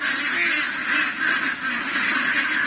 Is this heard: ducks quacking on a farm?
yes